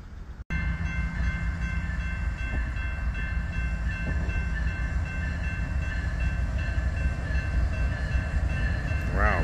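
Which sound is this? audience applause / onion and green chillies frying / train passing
train passing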